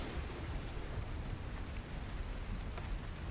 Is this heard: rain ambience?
yes